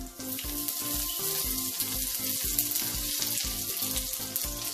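Mustard seeds, urad dal and curry leaves frying in hot oil over a low flame, a steady close sizzle with quick repeated crackles and pops running throughout, no voices.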